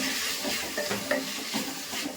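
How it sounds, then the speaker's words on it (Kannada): Diced potatoes sauté in a spiced tempering in a pan for avarekalu sambar, giving a steady soft sizzle with light stirring scrapes throughout and no talking. "ಆಲೂಗಡ್ಡೆನೇ ಇವಾಗ ಒಗ್ಗರಣೆಯಲ್ಲಿ ಬಾಡಿಸ್ಕೊಂಡಿದ್ದೀನಿ"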